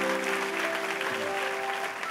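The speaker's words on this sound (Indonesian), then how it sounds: "Beri tepuk tangan bagi Allahmu yang luar biasa." A church congregation claps during a sermon, a quiet continuous spatter of hands heard softly behind a sustained organ-like musical chord.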